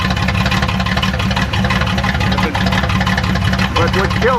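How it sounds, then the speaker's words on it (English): A 1994 Chevrolet Astro van engine idles roughly with a loud, steady mid-pitched rumble that wavers slightly as it hunts, heard close and continuous throughout. "Now, the engine seeking at idle was a problem from the get-go."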